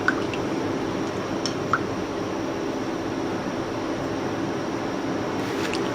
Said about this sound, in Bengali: আমি এখন পাত্রে ঢেলে নিচ্ছি।